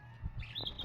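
A canary in an ornamental bird aviary gives a few short, bright chirps close by, the last rising into quick high tweets at the end of a brief moment.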